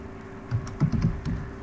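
Someone types on a computer keyboard while entering text in Microsoft Word, giving a short run of soft, close keystrokes at an uneven pace over a low steady hum.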